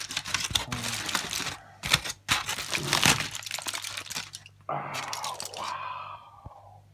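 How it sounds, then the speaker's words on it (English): Aluminum foil being opened and crinkled from around cooked pork: close, loud bursts of papery crackling and rustling, pausing briefly, then a final sharp crinkle. "Opening the aluminum foil."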